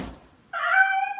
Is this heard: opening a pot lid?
no